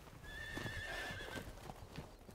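Wild horses mill about in the dirt of the Rock Springs Corral during a roundup, a mare guarding her foal among them; steady hoof clip-clop fills the scene, with a loud whinny early on and more stamping and shuffling close by.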